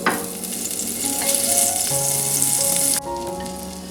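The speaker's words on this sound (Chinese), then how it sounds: "洋葱、蒜爆香" Onion and garlic fry in butter in a pan, a loud, close, continuous sizzle with crackling, joined by tonal kitchen hum and a sudden shift in the background partway through.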